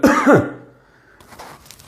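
A voice imitates a child coughing and choking on a laddoo stuck in the throat: a loud, rough, gagging cough burst at the start that fades, followed by quiet.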